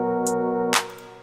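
Jazz trap beat intro built in FL Studio 12, sustained chords with layered tones holding steady, a bright hi-hat tick early on, then a crash-like burst before the chords cut off and a quieter tail rings out.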